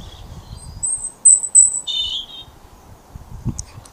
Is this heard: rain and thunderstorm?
no